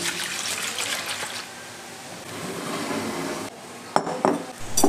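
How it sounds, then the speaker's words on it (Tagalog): Batter with sugar and vanilla being stirred for a no-bake cake, a wet swishing churn that pauses, resumes, then ends with sharp clinks of a utensil against the bowl. "Haluin ng mabuti hanggang sa matunaw yung ating sugar."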